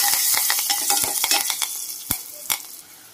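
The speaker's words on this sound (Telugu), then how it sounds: "నేను ఆనియన్స్ అలానే చిల్లీని ఫ్రై చేస్తున్నాను" Onions and green chillies sizzle in hot oil while a spoon stirs and scrapes the pan in irregular close clinks and scratches, and the frying hiss fades gradually as it goes on.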